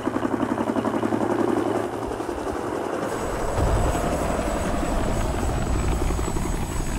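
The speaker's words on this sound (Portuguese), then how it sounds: "Helicóptero meio doido, meio futurista, meio passado" A futuristic helicopter in the adventure game Tchia whirs with a steady, chopping rotor drone that continues close and loud throughout, with a higher whine joining partway.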